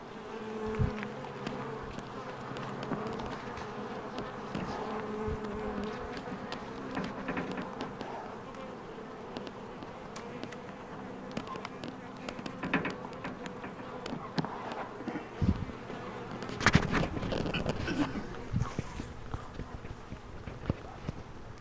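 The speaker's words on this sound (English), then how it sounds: "you can see there's still maybe 20 or 25 bees maybe at the most outside the box" A honeybee swarm buzzes around a hive box outdoors during a swarm capture, a steady dense hum with individual bees passing close, some rustling and a few knocks, with faint talk at times.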